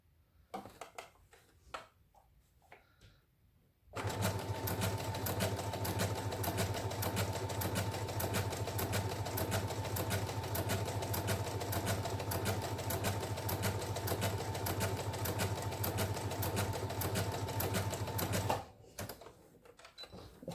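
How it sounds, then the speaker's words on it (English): A sewing machine runs a long basting stitch in one continuous, steady whir lasting about fourteen seconds, loud and close, framed by quiet handling noises before and after. "machine basting with a really long basting stitch"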